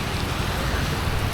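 Steady rain falls in the Philippines, making a dense, even hiss with close drops pattering on surfaces throughout.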